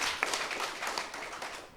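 A crowd at a village gathering in Indonesia claps for a guest, a quick, dense burst of many hands applauding continuously for nearly two seconds, fairly close and without any speech.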